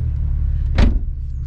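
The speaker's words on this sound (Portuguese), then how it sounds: "Mano, olha o ronco disso aqui" A lowered Volkswagen Passat on air suspension idles with a deep, steady engine rumble up close, broken by one brief mechanical whoosh in the middle.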